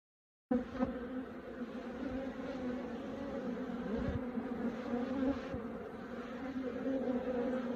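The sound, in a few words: honeybees buzzing in an open hive box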